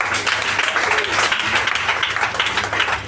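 A church congregation applauding together to acclaim Jesus, a dense, continuous burst of many hands clapping at moderate distance, with voices mixed in.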